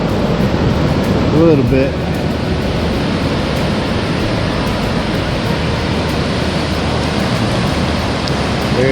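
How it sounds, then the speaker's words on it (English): Ocean waves at Ocean City beach wash in as a continuous, even surf roar, loud and broadband, with a brief voice near the start. "See if we can get the waves coming in"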